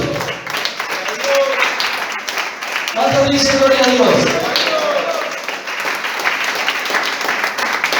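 A church congregation bursts into sustained applause and cheering in a worship service, loud and continuous while a preacher's voice speaks over it.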